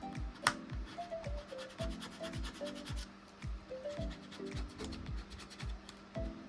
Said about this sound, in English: I'm gonna varnish this down with my trusty gift card